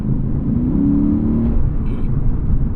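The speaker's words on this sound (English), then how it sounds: "That V8 sounds great, man." A 2020 Lexus RC F Track Edition V8 engine heard from inside, a low rumbling drone that rises in pitch as it accelerates, steady and fairly loud.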